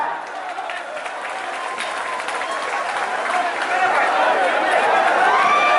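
Crowd applause at a public welcoming ceremony in Mithila swells gradually from moderate to loud and dense, with faint voices mixed into the clapping.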